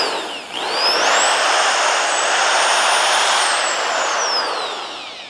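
The motor of a Comfort Zone 1,500W dual quartz heater spins up after a brief pause into a loud, smooth, steady whine with a rising then gently falling pitch, close and alone.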